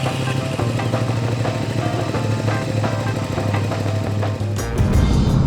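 A Triumph Speed Twin motorcycle out on the road, its engine holding a steady, loud drone with wind rush, then a sharper surge of throttle near the end.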